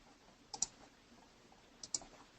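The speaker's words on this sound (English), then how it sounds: "double click on this square" A computer mouse double-clicked twice, each pair of crisp, close, quiet clicks separated by a short pause in an otherwise near-silent room.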